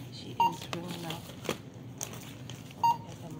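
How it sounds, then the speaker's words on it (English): A drugstore cashier rings up items at the register: two short electronic scanner beeps about two seconds apart, with faint rustling and handling of items, under ongoing talk nearby. "So I'm at the cash register right now. She is ringing up."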